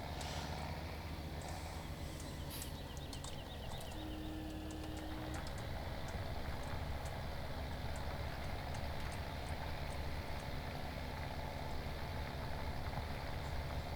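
Steady low engine drone of a small tractor pulling a plow across a field in Farming Simulator 17, a constant rumble holding level throughout with a brief tonal whine partway through.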